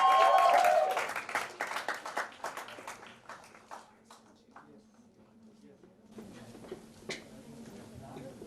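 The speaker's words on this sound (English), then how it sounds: "Guys, big round of applause." A burst of audience clapping at a song promotion event starts loud and quickly breaks into scattered, fading claps, followed by a quieter stretch with faint room noise and an occasional sharp knock.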